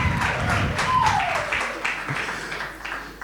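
Audience applause and clapping for a panelist at a university panel session on the gig economy, a steady broadband patter that swells then gradually fades, with some voices mixed in.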